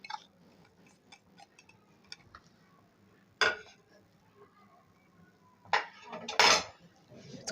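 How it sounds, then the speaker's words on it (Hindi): A spoon scrapes and clinks against a bowl while potato filling with cumin, chaat masala and coriander is stirred, giving quiet ticks with a few sharper clatters, and no voices. "इसको इस तरीके से मिक्स करेंगे।"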